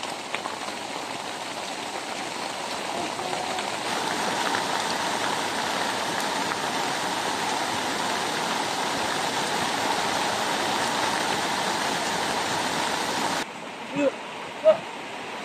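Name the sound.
strong floodwater rushing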